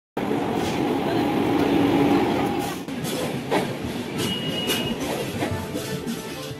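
A passenger train stands at the platform of Balasore station in Odisha with a heavy rumble that eases after a few seconds, then gives way to metallic clanks and thin squealing tones, with station chatter faintly mixed in.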